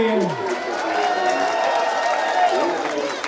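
Arena crowd at a boxing main event roaring and cheering steadily as a fighter is introduced, a loud, dense wall of voices with whoops and whistles, no single voice standing out.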